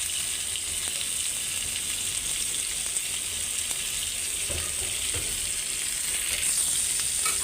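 Ginger-garlic paste fries with potatoes in a pan, a loud, continuous close-up sizzle with a dense hiss that holds evenly throughout, broken only by faint stirring scrapes and no voices.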